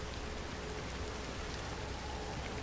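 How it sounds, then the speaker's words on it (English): Video game rain begins to fall, a soft, steady hiss of drops on surfaces, faint and even throughout with no voices over it. "It's starting to rain."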